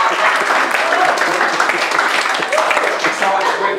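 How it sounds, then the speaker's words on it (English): A university education class gives a big round of applause for a professor on the last day before the exam, with steady, dense clapping from a room of students that runs throughout and mixes with some murmuring voices. "How about a big round of applause for Dr."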